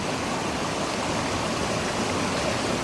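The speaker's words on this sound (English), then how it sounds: "there's a little waterfall behind us" Small waterfall beside a hiking trail on the way to Bedham Falls in Malinao, heard as steady, full broadband rushing water, close and constant with no talking.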